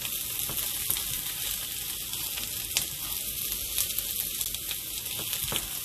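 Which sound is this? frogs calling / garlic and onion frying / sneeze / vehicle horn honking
garlic and onion frying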